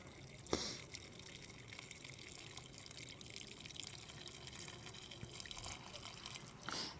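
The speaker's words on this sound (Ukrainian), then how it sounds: "Водичка в нас кипячена. Заливаю." Boiled water is poured into a container for making honey wine, giving faint, quiet trickling and splashing with a few small clinks at the start and end.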